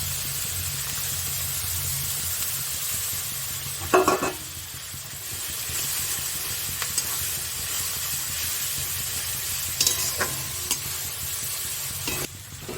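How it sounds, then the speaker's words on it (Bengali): Ginger-garlic paste and tomato paste hit a hot pan for a chicken almond curry, giving a steady, loud frying hiss with a few sharp clacks of a spoon against the pan scattered through. "এবার আদা রসুন বাটাটা দিলাম, টমেটো বাটাটা দিয়ে দিলাম"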